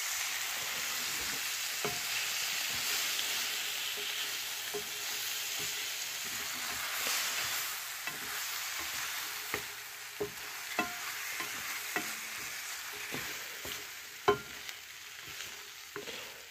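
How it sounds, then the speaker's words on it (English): Noodles, hot dogs and carrots sizzle steadily in a hot skillet while sauce is stirred in, with scattered scrapes and clinks of a utensil against the pan, close and continuous. "you guys want to just try to like mix the sauce in there"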